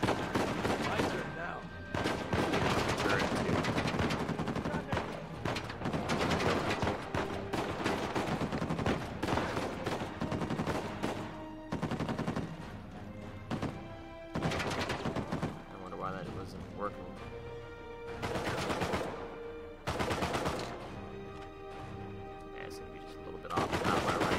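An enemy turret's machine gun hammers away in long bursts during a firefight in Uncharted 4, loud and sustained, broken by short pauses while someone talks over it.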